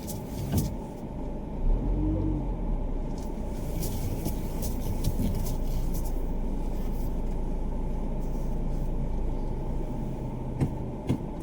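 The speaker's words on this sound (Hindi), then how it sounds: "गाड़ी को हम लोग लगा रहे हैं पार्किंग में।" A car's engine hums steadily at low speed while being maneuvered into a parking spot on a long road trip, a constant close rumble with a few clicks and small knocks throughout.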